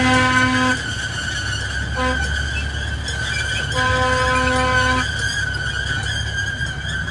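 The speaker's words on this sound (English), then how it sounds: "this is what originally ran at the 1965 World's Fair, this train" A miniature train that originally ran at the 1965 World's Fair, now at a railroad museum in Riverhead, Long Island, rumbles steadily nearby, with sustained tonal whistle or horn-like notes coming and going over the continuous running noise.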